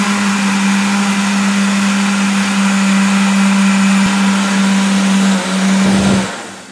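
Electric mixer beating milk, sugar, oil and vanilla into cake batter, a loud steady motor whine with a strong constant hum that holds for several seconds, then dips and winds down at the end.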